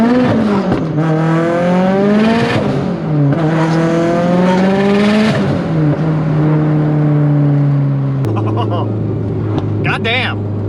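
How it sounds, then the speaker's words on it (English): Tuned Subaru WRX at around 650 wheel horsepower running E85 fuel: a loud engine revving up and down in long sweeps, with pops and bangs between shifts. Excited talk can be heard over it. "It is so much more poppy and bangy on E85 than it was on Pump Gas"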